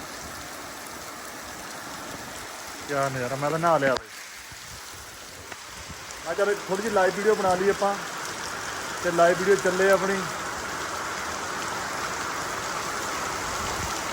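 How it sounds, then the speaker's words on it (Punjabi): Heavy rain pours down in a constant, hissing wash of noise, while someone speaks in short bursts over it. "ਇਹ ਜਿਹੜੇ ਆ ਜਿਹੜੇ ਹੁਣ ਬਰਸਾਤ ਪੈਂਦੇ ਨੇ"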